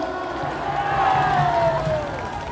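Large outdoor rally crowd at Gwanghwamun in Seoul applauding and cheering, a steady wash of clapping and voices with a faint rising whistle-like tone drifting over it, moderately loud throughout.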